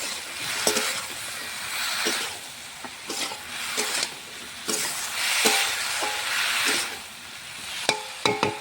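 Salt and turmeric are stirred in a hot frying pan for a Malabar spinach and fish dish: a soft sizzle swells and fades under regular spatula knocks against the pan, with no talking.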